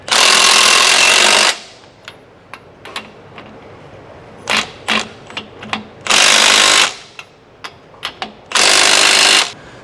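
Loud bursts of a power tool run on the U-bolt nuts of a motorhome leaf spring pack: three long close buzzing runs with sharp metallic clinks and taps between them.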